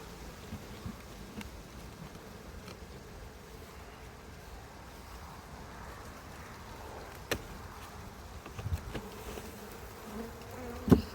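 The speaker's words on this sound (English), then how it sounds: "there's masses of bees up here" Bees hum softly at an opened beehive in an apiary, a faint continuous buzz with occasional closer passes and a few light knocks near the end.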